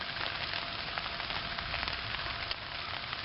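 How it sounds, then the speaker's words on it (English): Steady rain patters densely on a taut tent rainfly over a camping hammock, a close, continuous hiss of drops with occasional louder taps. "And just hear the pattering of the rain on my rainfly."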